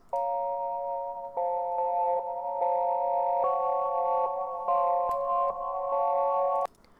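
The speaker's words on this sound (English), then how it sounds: "I have this bell sound in Electra X that I distorted a little bit with Wave Shaper" A bright synth bell from the Electra X synthesizer, slightly distorted with Wave Shaper, plays a steady repeating melody of sustained chiming notes, loud and alone, ending abruptly.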